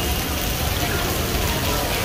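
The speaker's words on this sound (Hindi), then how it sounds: "देखो बारिश कितनी तेज हो रही है" Heavy rain pours down at Nagina railway station in India as a loud, constant, dense roar of water hitting surfaces, close and unbroken throughout, with no clear voices standing out.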